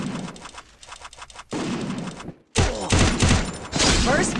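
Rapid bursts of gunfire from the video game Free Fire crackle loud and dense, broken by a brief pause, then resume as heavy overlapping automatic shots.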